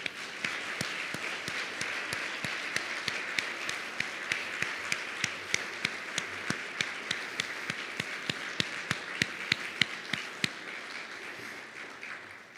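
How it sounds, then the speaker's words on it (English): Audience applause for faculty and staff honorees at a university hall of distinction awards ceremony, steady moderate clapping across the room with sharp individual claps standing out, continuing without talk. "now you are more than welcome to applaud"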